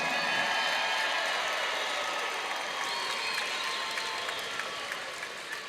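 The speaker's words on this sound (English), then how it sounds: "let's give these 150-pound women a big round of applause" A crowd at an MMA event applauds loudly and steadily after a women's bout, dense clapping that holds for several seconds before easing off slightly toward the end.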